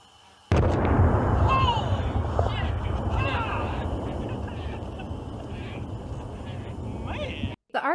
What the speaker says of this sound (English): It is a Russian handheld anti-tank rocket launcher.